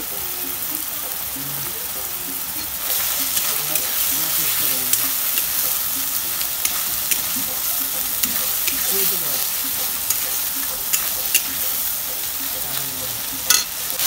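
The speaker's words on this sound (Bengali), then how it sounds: "মশলা প্রায় কষানো।" Masala sizzles and is stirred in a pan, a continuous close frying hiss that grows louder after a few seconds, dotted with sharp spatula scrapes and pops.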